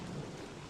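Steady rain in the Don't Starve video game, a dense even wash of falling water with a low rumbling undertone, constant and fairly loud through a brief moment, with no voices.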